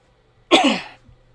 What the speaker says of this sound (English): Excuse me, sorry for the cough.